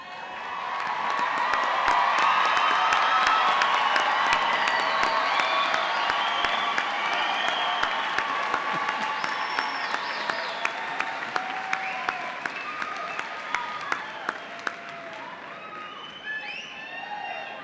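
Sustained applause and cheering fill a large hall at a 2017 spring university commencement, dense clapping with scattered whoops, gradually thinning toward the end.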